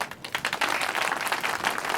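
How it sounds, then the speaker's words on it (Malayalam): A studio audience on a Kerala television show claps for a young girl after her performance. The applause is moderately loud, with dense, continuous clapping across the whole two seconds and no speech over it. "നല്ലൊരു കൈയടി"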